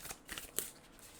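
Tarot cards shuffled by hand for a spirit-animal reading, giving a few quick papery riffles and flicks close by, with a sharper snap near the middle, over a quiet room.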